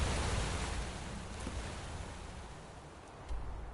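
A rushing downhill stream in Skyrim near Riften produces a steady, broad, noisy wash of water, fairly loud and close, with no talking.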